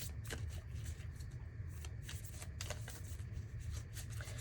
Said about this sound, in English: I'm going to shuffle some cards to get some more advice on what you can do to reach your full potential